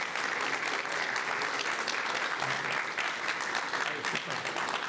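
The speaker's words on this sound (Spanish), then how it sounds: "Creo que aprovechamos el aplauso para seguir aplaudiendo" An audience at a technical talk on a coarse particle flotation plant applauds steadily, a dense even clapping that fills the whole moment at moderate volume.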